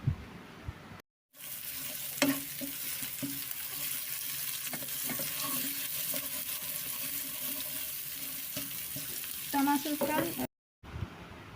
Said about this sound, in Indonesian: Lalu aduk sampai bumbunya ini benar-benar harum ya teman-teman